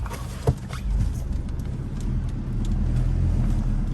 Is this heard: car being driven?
yes